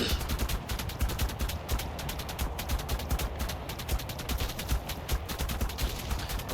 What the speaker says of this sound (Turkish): Ama Velanosaur yukarıda olduğu için bunu böyle taret moduyla çok rahat bir şekilde öldürür.